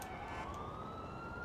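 An ambulance siren in the video game GTA IV wails overhead, a rising tone sliding upward through a faint, steady background of game ambience, fairly soft and distant.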